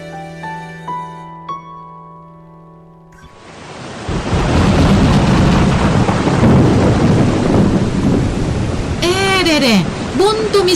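Heavy rain pouring down with a deep thunder rumble, rising suddenly from a quieter start with tonal music-like sounds, then a steady loud downpour roar; sharp whistling chirps cut through near the end.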